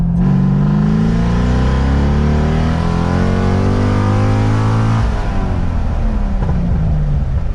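A C6 Corvette with a six-speed and Trick Flow top end kit revs strongly during a tuning pull, loud close engine note climbing steadily before easing off near the end.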